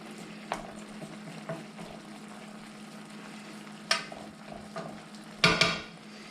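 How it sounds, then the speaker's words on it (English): Pork adobo in one pot simmers with a faint, low bubbling hum, broken by a few soft clinks and taps of a utensil against the pot. "You just want to let it simmer."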